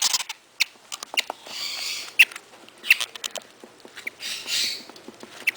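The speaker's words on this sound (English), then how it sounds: "Can you hear them chirping?" Baby Quaker parrots and lovebirds chirp close by in short, high, scattered peeps, with soft rustling and tapping between the calls and no talking.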